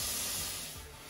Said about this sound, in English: Next, I'm gonna add my coconut milk